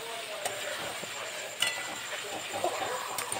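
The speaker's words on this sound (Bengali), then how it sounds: "আর ডিমগুলো একটু করে খুন্তির সাহায্যে কেটে কেটে নেব।" Eggs frying in oil and spices in a pan as a spatula cuts through them, giving a soft continuous sizzle punctuated by a few sharp scrapes and clinks of metal against the pan.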